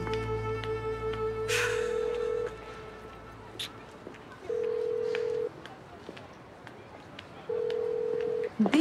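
Telephone tones sound while calling someone: a rapid run of dialing beeps at the start, then steady ringback tones repeating at even intervals, fairly clear with a low hum underneath.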